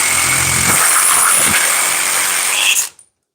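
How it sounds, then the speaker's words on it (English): A Dewalt DCS369B one-hand reciprocating saw grinds through half-inch metal conduit with a harsh, buzzing rasp, loud and close, then stops abruptly as the cut finishes. "Almost twice as long to cut it with the Dewalt"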